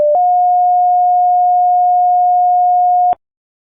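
A fire dispatch CAD system sounds an alert tone for an attached call: a short blip, then one steady, loud, pure electronic tone held for about three seconds before cutting off into silence.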